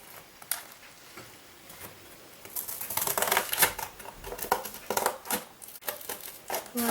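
Scissors or a blade cutting through the sides of a cardboard packaging box, a run of crisp, rapid snipping and crunching strokes, close and fairly quiet, growing busier after the first couple of seconds.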